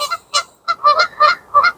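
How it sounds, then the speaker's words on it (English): Geese honk at night near a carp-fishing lake, a close, loud series of about eight nasal calls in quick irregular bursts with short gaps between them. "And geese, they slightly drive your potty through the night."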